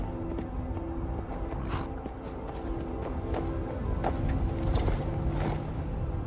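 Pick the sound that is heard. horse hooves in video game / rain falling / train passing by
horse hooves in video game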